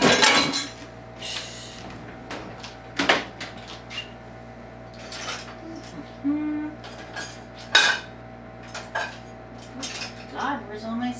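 Someone rummages through kitchen utensils for a spatula while making a raw food meat loaf, producing scattered metallic clatters and clinks of cutlery and pans, close by, with sharp bursts separated by quieter handling.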